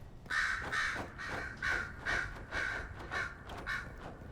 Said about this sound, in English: You guys sounded like crows, but looked like not crows.